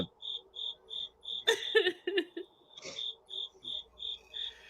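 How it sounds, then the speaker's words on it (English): Crickets chirp in a steady, evenly spaced pulse throughout, briefly joined by some rustling and a soft voice midway. "You couldn't hear it over these damn crickets."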